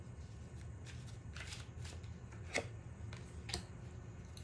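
Tarot cards are shuffled by hand at close range, soft riffling bursts with a few sharper snaps over a quiet room hum, no talking.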